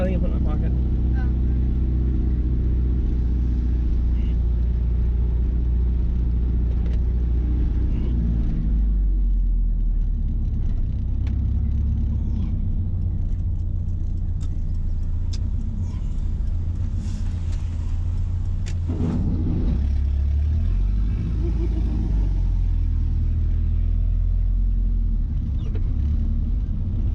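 A 1986-93 Mazda B Series pickup fitted with Holley Sniper EFI on a test drive: a loud, steady engine and road rumble inside the cab, with a shift in tone partway through and voices talking over it.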